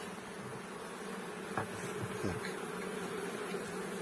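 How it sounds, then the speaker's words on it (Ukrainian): Honeybees buzzing around an opened hive during a spring colony inspection, a faint continuous hum with a couple of brief louder passes of individual bees nearby, no voices. "бджола вилетіла"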